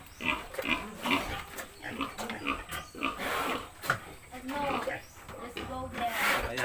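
Grunting and squealing from a newborn male Large White piglet at a farrowing, heard close with people talking and moving around throughout.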